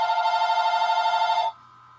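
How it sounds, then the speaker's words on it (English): A telephone rings indoors with a bright electronic trill, one continuous rippling burst that stops abruptly and leaves quiet room tone. "And I'm not going to worry about the telephone ringing."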